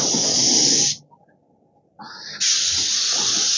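A Graco 695 airless sprayer blasts eggshell paint onto panels in two loud, steady hissing bursts separated by a short quiet gap, close by with no voices.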